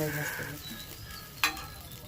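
A little more oil added to a hot karahi after frying prawns sizzles steadily up close, with one sharp utensil clack against the pan partway through.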